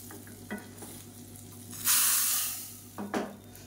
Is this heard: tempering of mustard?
yes